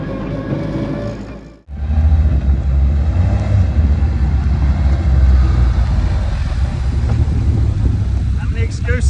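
Loud, close drivetrain noise from a Mk2 Ford Escort running a Focus RS 2.3 EcoBoost engine at Santa Pod Raceway, with a sharp cutoff around a fumbled gearshift before the heavy roar resumes and holds steady.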